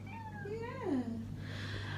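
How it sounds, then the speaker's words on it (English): A pet cat gives a single quiet, drawn-out meow that rises and then falls, heard close up over a low steady indoor hum. "It's my putty cat."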